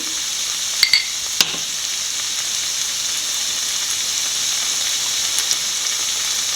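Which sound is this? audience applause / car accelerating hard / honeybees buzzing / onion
onion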